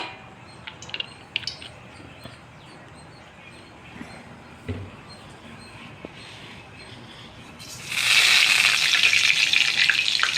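Mustard seeds hit hot oil in a pan while plantain stir-fry is being prepared, producing a sudden loud, steady sizzle and crackle that starts partway through after quieter kitchen sounds.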